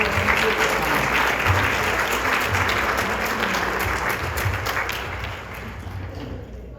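A church congregation applauds during a sermon, a loud sustained wash of clapping from many hands that gradually tapers off near the end.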